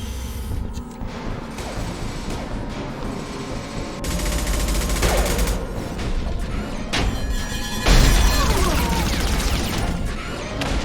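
Grenade launcher firing in the video game Mass Effect 2, set amid a firefight against a heavily armored mech: loud bursts and crashing blasts over dense, continuous gunfire and clatter, with a sharp heavy hit near the end.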